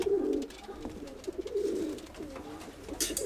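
Pigeons in a breeding loft coo in soft, repeated rolling calls, close by and overlapping in a gentle rhythm.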